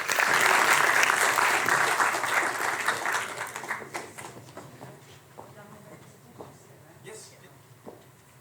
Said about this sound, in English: give her a great applause